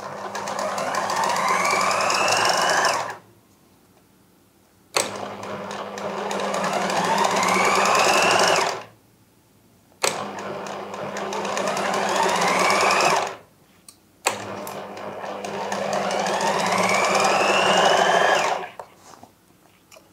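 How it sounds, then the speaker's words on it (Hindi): A sewing machine runs close and loud in four long bursts of steady whirring stitching, each lasting a few seconds and separated by short silent pauses, while a double seam is sewn on a shirt. "और अब जब डबल सिलाई लगा रही हूँ तो भी इसमें किसी किस्म की चुनट नहीं बन रही"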